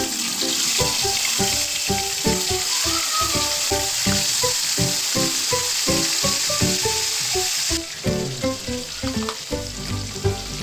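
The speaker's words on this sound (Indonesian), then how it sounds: "Sekarang kita goreng ikannya." Flour-dusted fish frying in hot oil in a pan gives a loud, steady sizzle with dense crackling pops throughout. The hiss eases and softens slightly near the end, with no voices.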